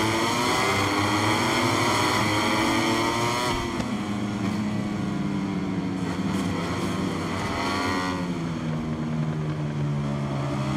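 Racing motorcycles in MotoGP 23 surge off the start line together, a loud, dense engine roar with rising revs and gear-change dips, continuous and close.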